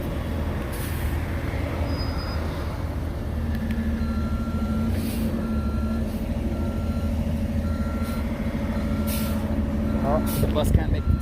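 A city bus manoeuvres through a tight turn during a Los Angeles protest, with repeated evenly spaced reversing beeps and short hisses of its air brakes over rumbling traffic and nearby voices.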